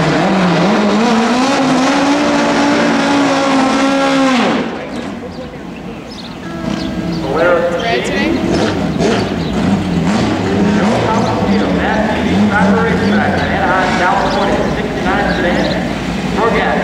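Pro Gas drag race cars, including an 11-second VW Bug at Bugorama Phoenix, roar loudly as engines wind up and cut off, then another engine revs and races on amid crowd noise and an announcer talking.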